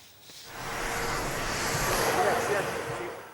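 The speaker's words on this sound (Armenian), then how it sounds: "Պուտինի օդանավը Պեկինում վայրէջք կատարեց երեկոյան։" The Russian president's aircraft lands in Beijing in the evening. A broad jet-engine roar swells and holds steady at a moderate distance, with voices talking over it.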